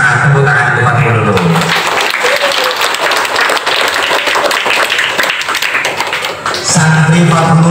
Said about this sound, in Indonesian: Tepuk tangan untuk Pak Dulu.